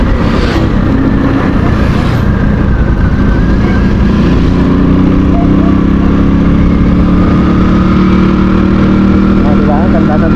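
A motorcycle engine drones loudly and steadily up close while riding along a road, a continuous mid-pitched hum with wind noise, and a person talks over it.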